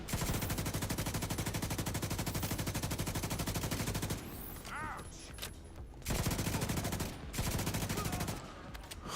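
Sustained rapid bursts from a light machine gun in The Division 2 video game, a dense unbroken rattle for several seconds, then a short pause and more loud sustained volleys.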